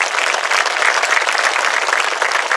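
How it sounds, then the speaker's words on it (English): A graduation audience claps for honored guests, a loud, steady wash of many hands clapping throughout, with no talk over it. "Please give them a round of applause."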